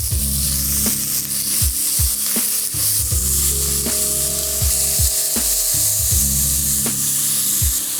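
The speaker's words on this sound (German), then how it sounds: "Wie schön das knuspert und wie gut es riecht, diese Röstaromen" Meat searing in a very hot pot for goulash, a loud dense sizzle and crackle that runs throughout, broken by repeated scrapes and clunks of stirring against the pot; no one speaks.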